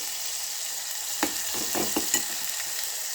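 Tomatoes sautéing with masala in a pan, a soft constant sizzle with a few light scraping stir strokes clustered in the middle, no talking.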